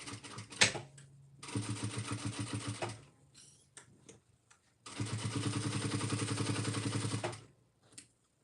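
Sewing machine running a joining seam with a 3/8-inch seam allowance on a crossbody bag, two sustained bursts of rapid whirring stitches separated by pauses and small clicks, close and alone.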